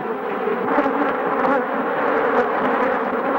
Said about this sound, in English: bees or so have already come out. They're hitting my legs like crazy.